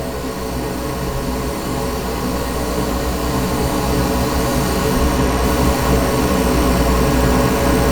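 Compressed air from an airbrush blows over freshly sprayed lacquer paint on a scale model to speed drying, producing a loud, steady broadband hiss that runs unbroken throughout.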